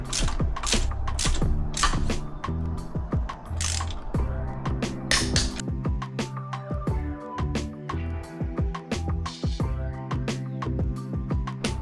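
A torque wrench ratchets spark plugs down on a 2024 Yamaha FX Cruiser HO 1.9 personal watercraft engine, giving loud, close, rapid rhythmic clicking bursts that run throughout with short pauses between strokes.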